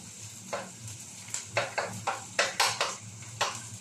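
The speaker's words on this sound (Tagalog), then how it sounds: "Lagyan lang natin dito sa gilid yung bawang para masabay na rin siya sa luto." Garlic sizzling in hot oil in a pan while cooking pinakbet, with a steady crackling fry under repeated louder bursts of stirring and scraping, close and without talk.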